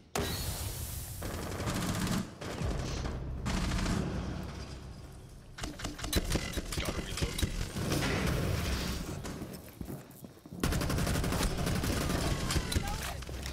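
Rapid automatic gunfire in Rainbow Six Siege: long sustained bursts of close, sharp shots with brief pauses between them, and a player's voice talking over parts of the firing.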